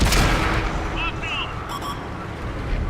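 Enemy tank shells strike the player's tank in the World of Tanks Object 252U, a heavy rumbling impact and blast under loud, continuous battle noise, with faint metallic pings mixed in.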